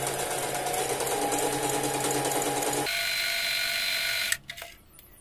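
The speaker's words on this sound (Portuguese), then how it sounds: "Agora eu vou começar a costura da argolinha da bola para a lateral do trabalho." Sewing machine stitching a small ring onto the side of a fabric piece: steady, loud whirring motor hum that shifts pitch midway, then stops with a few clicks and a brief rattle.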